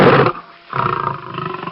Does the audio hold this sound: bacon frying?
no